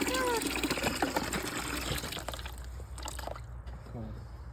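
Water gushes steadily from a newly installed pipe into a koi pond in a poly tunnel, a continuous close rushing and splashing that gradually thins out, with people talking over it.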